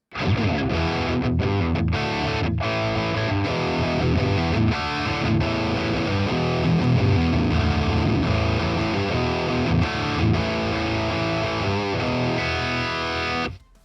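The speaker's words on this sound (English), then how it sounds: "meet the Metal Charlie. This pedal can go to extremes, but also be dialed down a bit to gently push the amp into edge of breakup" Electric guitar played through the Metal Charlie drive pedal in the Nunchuck PolyChrome DSP plugin, giving a thick, heavily distorted tone with chugging riffs and sustained chords that run steadily for about fourteen seconds before stopping abruptly.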